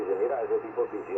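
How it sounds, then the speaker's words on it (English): Static hiss from a Yaesu 991a amateur radio, a steady band-limited rush with a faint warbling undertone, moderately loud and continuous, no talk over it. "You hear that little white noise?"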